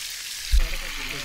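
A steady, close sizzle of shrimp frying in a hot pan, with a brief low thump partway through.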